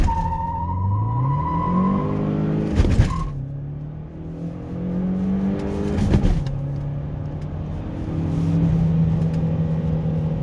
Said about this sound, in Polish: Turbina tutaj wstaje i zaczyna dzielnie pompować